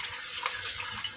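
A turbot flatfish rinsed under a running tap, a steady full splash and hiss of water at close range with no voices.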